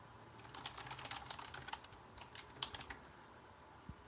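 Steady typing on a computer keyboard, a quick patter of soft clicky keystrokes in uneven bursts, close and fairly quiet with no talking.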